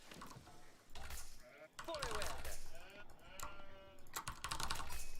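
Sheep bleat repeatedly in the Age of Empires IV video game, several wavering calls layered with keyboard typing clicks and a voice talking over them.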